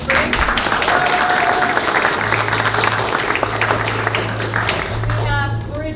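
Applause for the drummer at a SUNY Brockport jazz concert, a steady wash of clapping filling the hall throughout, with a low sustained tone humming beneath it.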